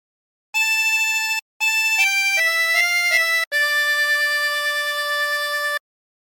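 A 20-hole tremolo harmonica plays a short phrase of the hymn What a Friend We Have in Jesus, several clear sustained notes with slight breaks between them, ending on a long held tone, solo and close.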